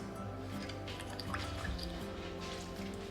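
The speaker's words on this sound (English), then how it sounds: "We're gonna add in our hot water and our salt." Hot water and salt are poured into a bowl of oatmeal cream pie filling made with powdered sugar, giving a steady, moderately loud liquid trickle and drip with no talking.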